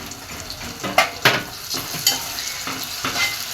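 Tomato sautéing with onion and green chili in a pan, a steady close sizzle broken by several sharp scraping stirs of a utensil against the pan.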